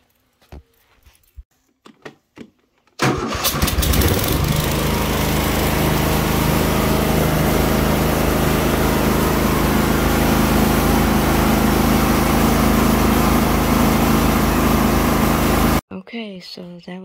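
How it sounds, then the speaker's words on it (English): A Cub Cadet LTX 1050 riding mower, checked for a battery charging fault, cranks and starts after a few quiet clicks and key sounds, then its small engine runs loud and steady at close range before cutting off abruptly. "I'm going to start the mower and see if I got charge"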